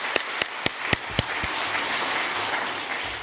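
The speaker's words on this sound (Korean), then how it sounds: "우리 서대문 교회 목사님과 당회원들 박수 한번 하면 좋겠습니다" A few sharp, separate claps quickly swell into steady, fairly distant crowd applause from a church gathering at a prayer-movement briefing session, with no voices over it.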